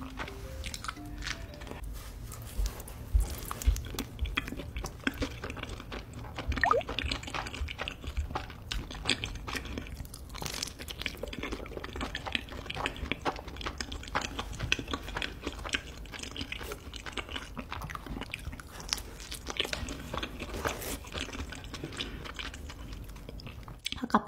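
Close, continuous eating of raw seafood in a mukbang setting, with steady wet chewing, squishing and soft biting sounds, occasional crunchy bites, and no talking over the chewing.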